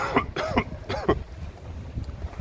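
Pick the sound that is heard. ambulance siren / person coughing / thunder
person coughing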